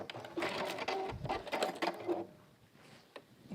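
A sewing machine stitches water-repellent fabric in a quick rapid whirring burst for about two seconds, then slows and stops, leaving faint mechanical clicks, close up.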